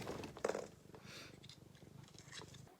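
A house cat purrs close up in a quiet room, a soft rhythmic rumble that goes on steadily, with a few faint clicks and rustles mixed in and no talking.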